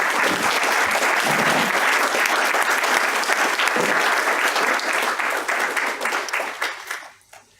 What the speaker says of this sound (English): please give all our 9 speakers a round of applause